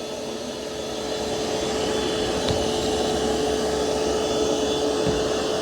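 A Curv 2 robot vacuum working over thick carpet, a steady close whirring hum with a thin high whine that holds constant throughout, no talking.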